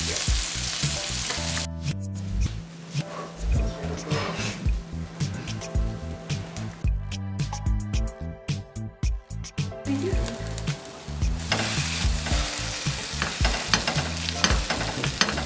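A tuna steak stack sizzling and frying in a pan, a dense, continuous crackle and spit close to the ear that thins briefly in the middle and then swells back, with no talking.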